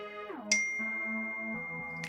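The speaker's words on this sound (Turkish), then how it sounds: "Bildirim geldi." A soft ding chime rings out over light game music from a free hidden-object frog puzzle game, one bright tone near the start and another at the end.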